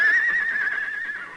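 A horse neighs once, a clear, fairly close whinny that wavers in pitch for over a second before fading out.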